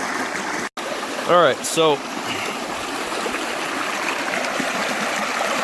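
Stream water rushes steadily through a gold sluice box on the East Fork of the San Gabriel River at Heaton Flat, a constant close wash broken briefly by someone speaking.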